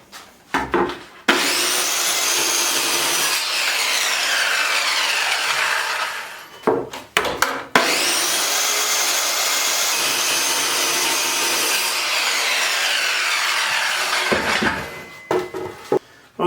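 Wood strips for a headboard pedestal are cut with a power saw, a loud sustained whining cut running several seconds, broken by short clunks and handling noises between two long passes.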